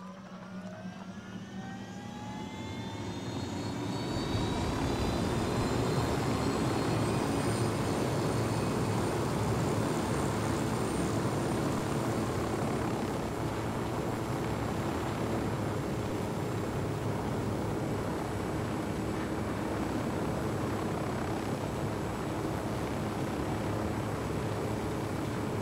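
Aircraft engine in the video game Ghost Recon Wildlands, spooling up over the first few seconds into a loud, steady roar with a high whine that holds unbroken throughout.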